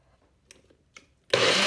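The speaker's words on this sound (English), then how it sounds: "but I'm just going to blend it." Kitchen blender starts up blending tomato salsa, a loud, sudden whirring roar after a few quiet clicks and taps as it is readied.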